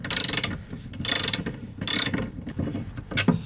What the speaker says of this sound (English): 16mm box spanner. Just undoing it.